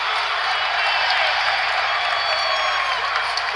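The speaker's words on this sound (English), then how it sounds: "The crowd shouting "Boom Baby" in honor of Bobby Slick Leonard." Arena crowd at an Indiana Pacers basketball game roaring steadily and loud, a dense wash of voices shouting together with no clear individual words standing out.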